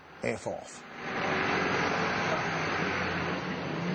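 A noisy truck passes on a street during a confrontation, building after a short shouted phrase into a loud, steady broadband roar that masks everything else to the end.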